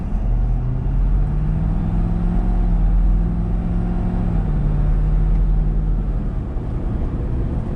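A Roush Ford F-350 Super Duty Power Stroke diesel truck accelerating onto a highway, a heavy, steady low rumble with engine tone rising gradually, heard from inside the cab without talk.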